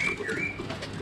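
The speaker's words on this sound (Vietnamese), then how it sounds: "vẫn là họa mi các bác nha" A Chinese hwamei songbird, kept in a cage among hwamei offered for sale, gives a clear sliding whistled call at close range, with a steady hiss of background noise behind it and no talking.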